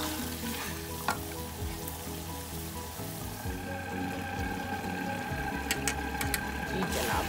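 Minced meat (qeema) frying in a pan with spices, a constant loud sizzle with scraping stir strokes and occasional clinks throughout.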